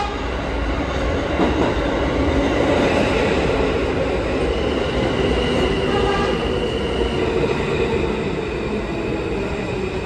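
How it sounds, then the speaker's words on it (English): A New York subway train on the F Shuttle rumbles loudly and continuously nearby, with wheel squeal and steady rail noise running the whole time and no voices. "a Queensbound train showed up"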